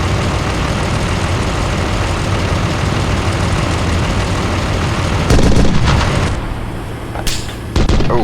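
Sustained rumbling battle noise from the Steel Beasts Pro PE tank simulator game, a dense continuous roar broken by sharper bursts of gunfire and impacts toward the end, loud throughout.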